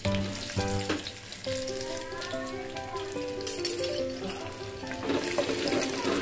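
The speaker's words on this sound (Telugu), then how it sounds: "నూనె మరిగింది ఫస్ట్ వెల్లుల్లిపాయలు వేసుకొని బాగా ఎర్రగా వేసుకోవాలి" Garlic cloves hit hot oil and sizzle loudly and continuously, with a steady frying crackle running throughout. Faint tonal background sounds sit beneath it.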